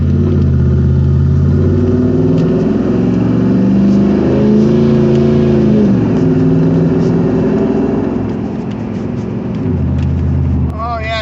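A car with a rebuilt LT-1 engine drives along pavement, its engine humming steadily and rising and falling in pitch as it revs, loud and close from inside the vehicle.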